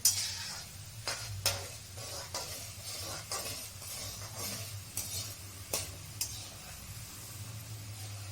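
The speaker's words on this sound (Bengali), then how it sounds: "এবার ভাজছি এটা, এমনি করে নেড়ে চেড়ে গ্যাসটা কমিয়ে দেবেন।" Crispy mint nimki snacks frying in a pan of oil, a soft steady sizzle with intermittent sharp scrapes and clinks of a spatula stirring them.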